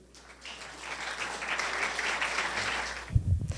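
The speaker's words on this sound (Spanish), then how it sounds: "Un fuerte aplauso para ella." Applause rises from an audience at a scientific conference for a welcoming speaker, building to a steady moderate-level clapping, fairly distant, with a few low thumps near the end.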